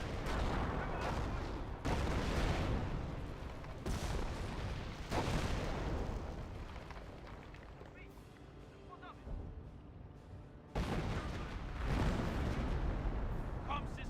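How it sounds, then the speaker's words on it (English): Artillery in a creeping barrage in the war game Company of Heroes, with a series of deep booming blasts rolling one after another and a quieter lull partway through, close and heavy. "artillery looks like being brought in, or maybe a creeping barrage"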